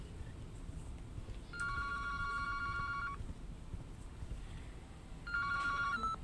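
A telephone rings in the horror video game The Baby in Yellow: two bursts of a bright electronic ring, each a rapid warbling trill, heard over a steady background hiss with no talking.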